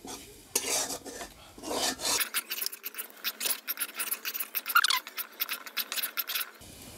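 Ground mace, nutmeg, and black and white pepper being stirred into vegetables for a vegetable biryani, with a steady series of scraping, rasping strokes of a spoon against a pan, close and moderately loud, with no talking.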